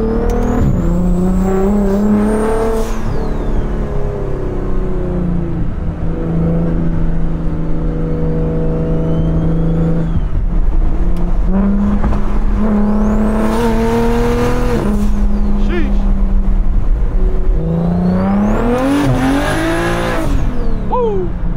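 A turbocharged BMW 335i drives through a city downtown at night, its engine droning and revving up through the gears in long rising pulls and shifts, loud and close from inside the cabin, with no talk.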